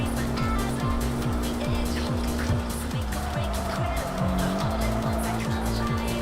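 A Porsche Boxster spinning out in the TXR3 racing game, a droning engine note with rising and falling revs, tires squealing and skidding through the middle, loud and close, with a voice talking over it.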